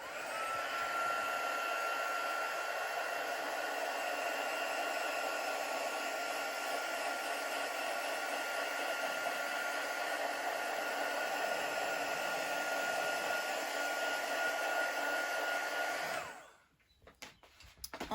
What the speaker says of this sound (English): the air from the heat gun might move your ink around a little bit